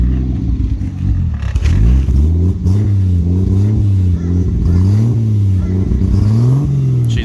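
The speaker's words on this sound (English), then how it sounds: "it does have that good 6-cylinder note, so sounds the part" A Mazda FC RX7 that sat for twelve years, running cold with a full stainless 3-inch exhaust, revs repeatedly in rising and falling swells, a loud, close, throaty engine note with a clattery edge.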